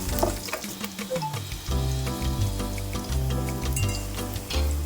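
Green chillies sautéing in hot oil with asafoetida, a loud continuous sizzle and crackle with some stirring, over a background of low tonal hum.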